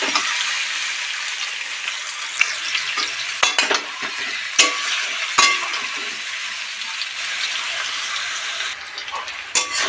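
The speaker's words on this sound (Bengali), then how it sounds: "এঁচোড়টা আমি হালকা করে ভাজবো" Raw jackfruit pieces fry gently in hot oil with a steady, fairly close sizzle, punctuated by several sharp clinks and scrapes of a stirring spoon against the pan.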